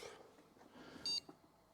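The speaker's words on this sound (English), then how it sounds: "I heard a beep." Single short electronic beep from a computer's AsRock N68-S motherboard at power-on, brief and clear over faint fan and room hum.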